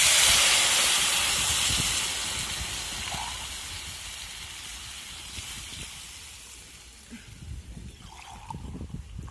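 Water poured onto hot fried masala in a cooking pot for masale bhat sets off a loud steaming hiss that gradually fades, with faint bubbling and clinks toward the end and no talking.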